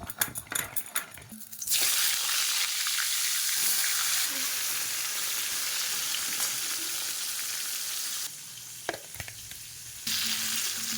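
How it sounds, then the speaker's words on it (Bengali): Pointed gourd (potol) coated in turmeric and salt fries in a pan, making a steady, close, hissing sizzle after a few opening clatters, with brief shifts as the pieces are stirred. "তো পটলটা একটু হালকা করে ভাজা হয়ে গেছে।"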